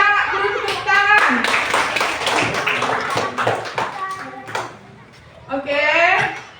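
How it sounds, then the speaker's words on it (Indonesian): Children in an Indonesian second-grade classroom clap their hands together in a quick scattered burst, close and lively, while a teacher and pupils keep talking over and between the claps. "Iya, beri tepuk tangan."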